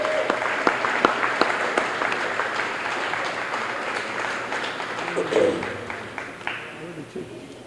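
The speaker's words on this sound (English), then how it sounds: "Give yourself a round of applause." Applause at an employee and volunteer recognition dinner for Forest Park, a room full of clapping hands that holds steady for several seconds, thinning near the end with a little murmuring mixed in.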